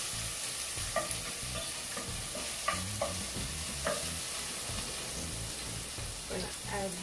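Scotch bonnet peppers sauté in a pan for Jamaican ackee and saltfish, giving a steady sizzle with scraping stir strokes and clinks of a utensil against the pan throughout.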